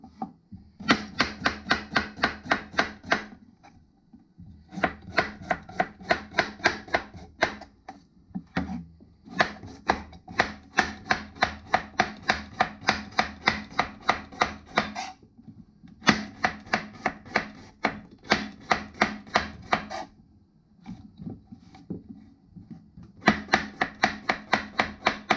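Knife thinly slicing horse mackerel on a cutting board, rapid rhythmic tapping strokes in bursts of many cuts separated by short pauses, close and crisp.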